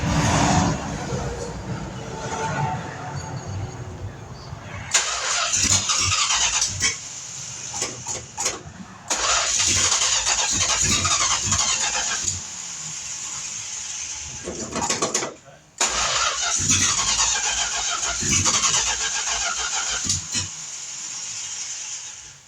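A 1969 Plymouth Road Runner engine cranking and firing for the first time in over 23 years, with loud rough bursts of running and revving separated by brief drops, close by in a garage-like setting.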